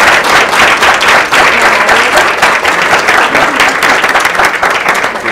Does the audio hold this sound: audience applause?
yes